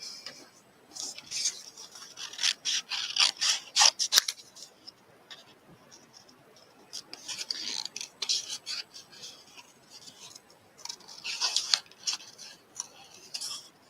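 Scissors snipping through paper or cardstock in a papercraft session, a series of crisp close cuts arriving in three bursts separated by brief pauses.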